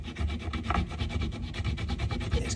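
An iron plate being scrubbed with a paste made from a dishwasher tablet, giving a rapid, rhythmic rasping rub that repeats back and forth close to the microphone with no talking.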